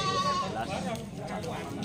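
Goat bleating at a livestock market, a short wavering cry near the start, followed by the background murmur of voices and market bustle.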